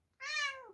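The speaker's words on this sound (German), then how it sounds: "Oh, die Katze." A cat gives a single clear, close meow, rising and then falling away, in an otherwise quiet room.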